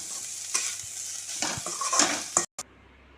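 Broccoli and green peas mixed veg fry with mixed herbs being stirred in a pan. It sizzles softly under repeated spoon scrapes and clinks against the metal, then cuts off abruptly near the end.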